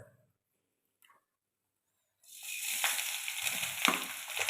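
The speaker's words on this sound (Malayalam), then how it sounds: "ചട്ടി ചൂടായിട്ടുണ്ട്. കുറച്ച് വെളിച്ചെണ്ണ, തേങ്ങ ഇട്ട് കൊടുക്കാൻ" Grated coconut roasting in coconut oil in a hot clay pan for a yam curry: after near silence and a faint tap, a steady close-up sizzle and crackle sets in and holds to the end.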